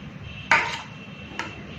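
A spoon mixing chicken biryani rice from the sides of the pot, with two distinct metallic clanks against the cookware, the first sharper and louder, separated by a quiet pause.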